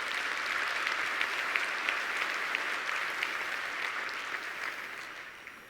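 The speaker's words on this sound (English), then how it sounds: "Please give them a big round of applause." Applause fills a conference hall at a legal-tech keynote, many hands clapping in a dense, steady wash at moderate distance that gradually thins toward the end.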